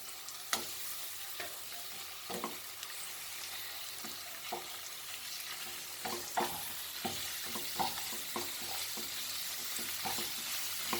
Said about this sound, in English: Now I will be frying my mince.